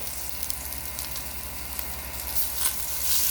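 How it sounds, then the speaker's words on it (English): Shrimp sauté in browned butter over medium-high heat, giving a steady close sizzle and crackle of frying with no talking. "You just want something to be able to saute the shrimp"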